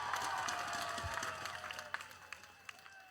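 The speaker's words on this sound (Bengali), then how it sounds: "জোরে একটা করতালি তাদের জন্য।" A crowd applauds the champion team as it receives its trophy at a beach kabaddi tournament prize ceremony, with sustained clapping, a few sharper nearby claps and a faint tonal hum underneath.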